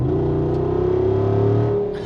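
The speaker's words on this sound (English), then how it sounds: "the first thing I did is I opened up the exhaust," A 2024 Jeep Wrangler 392 with its 470-horsepower engine and exhaust opened up revs hard. The loud, rising roar swells and then drops away over about two seconds.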